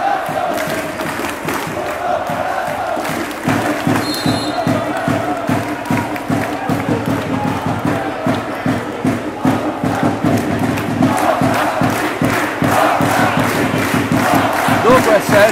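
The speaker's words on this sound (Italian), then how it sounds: "Si alza l'urlo dei tifosi faentini." Faenza basketball fans roar in an indoor arena during a game against Rimini, a loud sustained crowd din with rhythmic thumping and chanting building steadily throughout.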